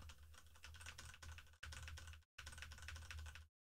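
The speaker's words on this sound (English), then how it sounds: "this is me hammering the keyboard now" A computer keyboard is hammered hard, picked up on a dynamic microphone: rapid, continuous typing clatter with brief cuts between bursts and a low hum beneath, close and fairly quiet overall.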